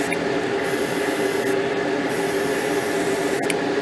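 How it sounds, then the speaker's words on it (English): Spray gun painting the wheels of a scratch-built Fairlane scale model car, giving a steady, continuous close-up hiss of air and paint that runs unbroken from start to finish with no talk. "So let me spray this"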